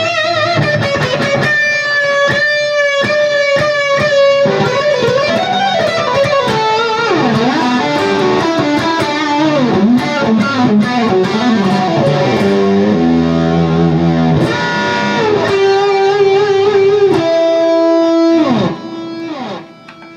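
Electric guitar played through a Mesa Boogie Road King II amplifier with delay and reverb, melodic single notes and chords ringing out with echoing repeats and a lingering tail, loud and clear with no talking.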